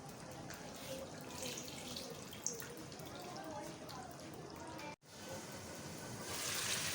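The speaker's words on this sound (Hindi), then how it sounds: "तो फिलहाल इसमें पानी डाल देते हैं।" About half a glass of water is poured into a pot of aloo chicken curry with potatoes, making a steady splashing trickle for several seconds, briefly interrupted, against low background noise.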